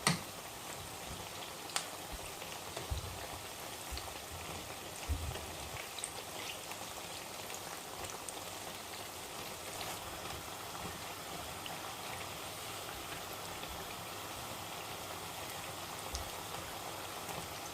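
Vegetable pakoras frying in oil over a medium flame give a steady, dense crackle and hiss throughout, with a few louder pops standing out near the start and middle, close by and with no talk.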